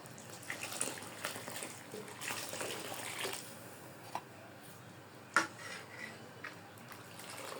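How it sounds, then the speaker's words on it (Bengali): Water poured into a pot of lentils cooking with green chillies, onion and salt, a soft steady liquid wash with a few small clinks and one sharp knock, fairly quiet and close, no talk. "এখন আমি পানি দিয়ে দিই"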